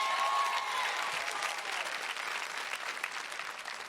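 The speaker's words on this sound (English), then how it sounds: "So give yourselves a round of applause." Graduates and guests at a high school graduation ceremony break into broad, continuous applause that fills the hall at a fairly even level and tapers slightly toward the end, with no speech over it.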